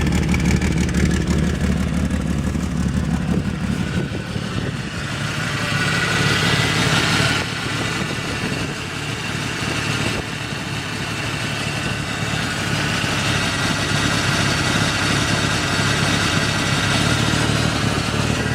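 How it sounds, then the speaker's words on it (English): A 1989 Jeep Cherokee engine idles steadily with an exhaust leak, giving a continuous close, loud rumble with a raspy, hissing edge that holds throughout. "Got a hole in the exhaust up here somewhere."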